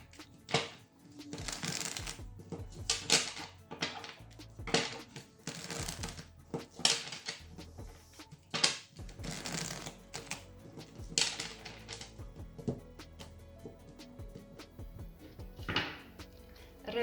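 Tarot cards shuffled by hand for a Sagittarius horoscope reading, giving a close series of crisp riffling bursts and soft flicks and slaps at irregular intervals, with no talk.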